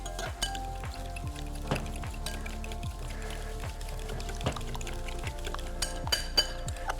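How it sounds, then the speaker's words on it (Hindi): About a quarter cup of water poured into a cooking sauce mixture in a kitchen, soft pouring and trickling with light clinks of utensils and intermittent taps, fairly quiet and close without speech. "इसमें हम थोड़ा सा इसको पतला करने के लिए तकरीबन 1/4 कप आपने इसमें पानी का डालना है।"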